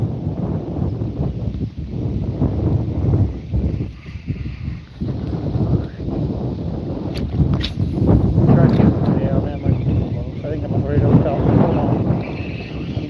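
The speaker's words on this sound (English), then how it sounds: "Boy, that wind's making it some hard casting" Wind buffets the microphone in rough, continuous gusts while someone fishes from a boat on Graham Lake in Maine, loud and close, with someone talking over the roar.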